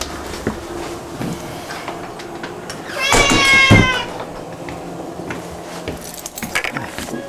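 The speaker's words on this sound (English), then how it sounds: "What are you doing there, cat?" A cat meows outdoors by a porch, one loud, drawn-out call in the middle of the stretch, with faint bumps and knocks around it.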